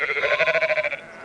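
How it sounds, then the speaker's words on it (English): A single sheep gives one short, wavering bleat with a quick pulsing tremble, close and clear, with no voices. "And the shepherd with his sheep."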